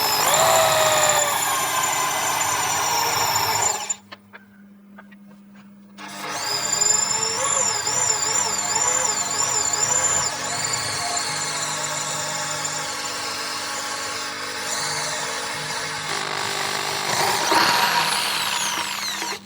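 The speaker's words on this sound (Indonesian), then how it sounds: "proses pengeboran pada besi itu kita tidak bisa paksakan, harus pelan-pelan" A Dongcheng DJZ10-10 electric drill bores through iron with a steady, loud motor whine and grinding bite, dipping briefly before climbing pitch and running on continuously to the end.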